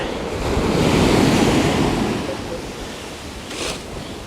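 Ocean waves break and wash up on a cold shore, a broad rushing surge that swells and then recedes, with wind buffeting the microphone and no voices.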